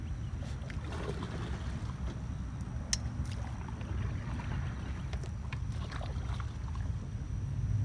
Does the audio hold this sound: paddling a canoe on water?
yes